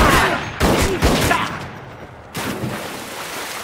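Gunshots from the film Crows Zero land as a few loud, close blasts with short rumbling tails, spaced unevenly, no voices over them.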